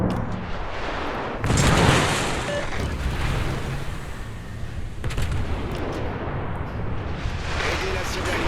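Naval gunfire and high-explosive shell impacts from a French Tier X large cruiser in the World of Warships video game, heavy booming blasts at intervals over constant roaring sea-battle noise, with a voice talking throughout.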